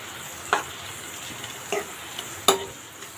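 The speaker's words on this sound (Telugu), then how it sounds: "ఇప్పుడు ఇవి బాగా కలుపుకుందాము" Tomatoes and onions being stirred with salt and chili powder for a village-style taro root curry, giving three sharp scraping strokes spaced about a second apart over a faint, steady sizzle.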